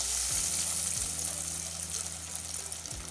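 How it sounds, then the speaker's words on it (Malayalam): Breaded beef cutlets, Kerala style, frying in hot oil give a steady, close, bright sizzle, with faint low clicks of utensils underneath and no voices. "റൊട്ടിപ്പടിക്കകത്ത് കുറേശ്ശെ കുറേശ്ശെ മുക്കി എണ്ണയിലേക്ക് ഇടുക"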